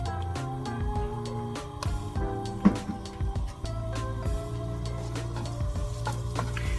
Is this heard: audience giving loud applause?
no